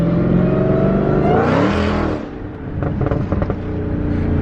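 A Nissan GT-R accelerating hard in second gear: a loud, close engine note climbing steadily in pitch, then dipping briefly before picking up again with a rough, pulsing growl.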